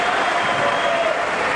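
Steady, dense applause from a tennis crowd at the Australian Open, a continuous wash of clapping filling the arena without a break.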